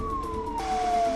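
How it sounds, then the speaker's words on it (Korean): A fire engine siren wails at a nuclear power plant, one long gliding tone that slowly falls in pitch, steady and fairly prominent over low rumbling background noise. "발전소 내 소방차가 출동합니다"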